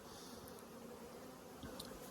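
Honey bees buzz steadily in the supers of a backyard beehive, a faint, continuous droning hum without talk.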